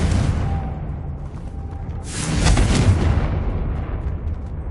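Confringo blasting spell in the video game Hogwarts Legacy: a loud, deep explosive boom swelling to a roaring burst mid-clip over rumbling game ambience, then fading into a low rumble.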